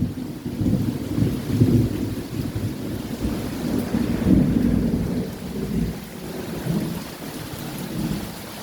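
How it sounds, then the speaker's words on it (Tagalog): Heavy rain pours down steadily in San Luis, Pampanga, while deep thunder rumbles and rolls beneath it, loud and close, with gusts of wind in the mix. "Lakas ng ulan dito, guys."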